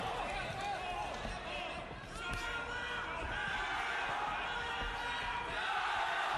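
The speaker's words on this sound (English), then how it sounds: "Crowd now is starting to cheer for Yang, trying to inspire him a little bit." A boxing arena crowd cheering during a bout, a broad steady roar of many voices holding through the whole stretch, with a commentator talking over it.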